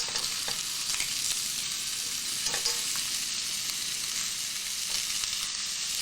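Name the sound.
bacon sizzling while browning in a pan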